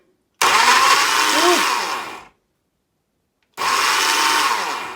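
Blender pureeing onion and garlic in two loud whirring bursts, the first about two seconds long and the second shorter, with a brief silent pause between them.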